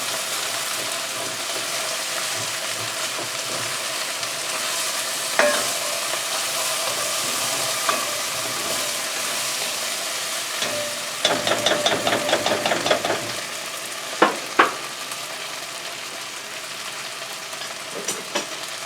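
Szechuan chicken frying in a hot pan makes a steady sizzle while ingredients are stirred in, with a few sharp clanks and scrapes of a utensil partway through.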